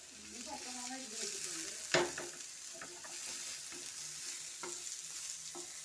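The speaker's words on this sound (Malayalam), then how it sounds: "നമുക്ക് സവാള ഇളക്കി കൊടുക്കാം" Sliced onions stirred in hot oil in a pan for a prawn roast: a steady close sizzle with a sharp spoon knock near the start and lighter scraping taps recurring through the stir.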